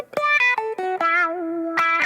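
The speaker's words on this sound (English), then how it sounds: "That's all about the wah" A reggae guitar skank played through a wah pedal sounds as short choppy chord stabs with a sweeping, vocal-like tone, ending on a held note and a final stab.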